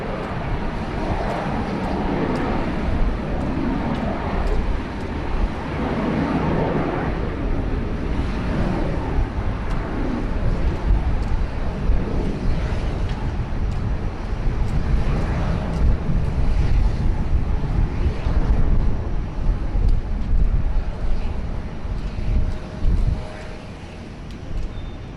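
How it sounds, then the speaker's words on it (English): A Pilatus PC-24 business jet of the Flying Doctor service passes at Sydney Airport, its engine rumble swelling gradually from a moderate background hum to a fuller roar before easing off, with wind buffeting the microphone. "the PC-24 of the Flying Doctor service"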